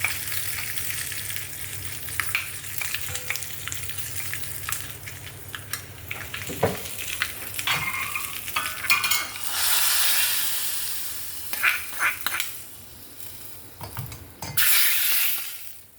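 Chillies and curry leaves sizzle and crackle loudly in hot oil for tempering a pineapple pachadi, a steady close frying hiss with scattered sharp pops and brief bursts of stirring.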